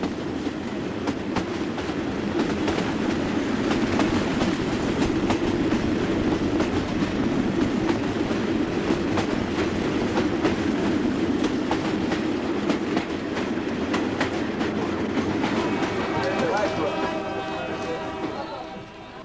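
Passenger train running through remote swamp country, a steady loud rumble of wheels and carriages with faint clickety-clack throughout, a brief squeal near the end.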